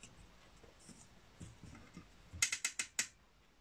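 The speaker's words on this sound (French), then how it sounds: "Ensuite, on va régler notre machine à coudre." A home sewing machine is set to straight stitch, giving a faint low rustle, then a quick run of five crisp mechanical clicks from its dial or selector, close by.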